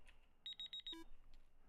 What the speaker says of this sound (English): Oh. My alarm just went off.